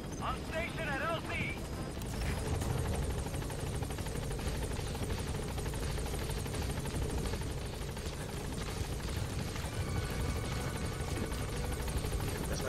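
Helicopter arriving at a landing zone in Metal Gear Solid 5, a steady loud rotor thrum and engine whine that fills the whole stretch, with a voice speaking briefly near the start.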